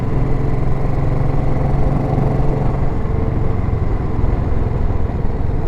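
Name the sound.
1931 Ariel motorcycle engine while riding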